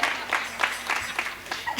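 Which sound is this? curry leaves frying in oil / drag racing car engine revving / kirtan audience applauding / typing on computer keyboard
kirtan audience applauding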